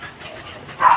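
A chained dog barks once, a short loud bark at the end of a second of quiet background noise.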